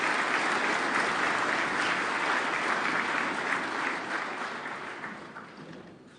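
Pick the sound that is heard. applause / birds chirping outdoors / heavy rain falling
applause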